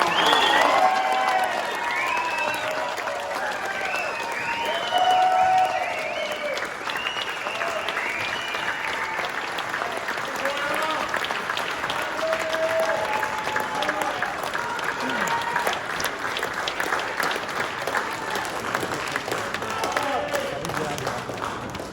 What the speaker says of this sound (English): Please give a warm round of applause and come on up, Al Sandoval